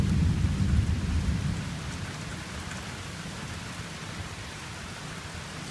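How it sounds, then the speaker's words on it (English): Steady rain pours with a low rumble of thunder fading at the start, a dense, continuous wash of storm noise with strong gusts of wind, on a homestead. "Pretty good gusts of wind, lots of rain."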